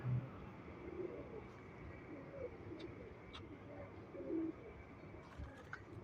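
Low, soft cooing from fancy star pigeons repeats a few times over a steady, noisy outdoor background, with faint chirps and distant traffic.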